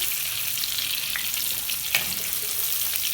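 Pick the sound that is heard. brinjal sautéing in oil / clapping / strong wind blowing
brinjal sautéing in oil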